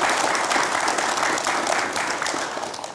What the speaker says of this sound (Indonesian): terima kasih kita berikan aplaus untuk Mas Agus ya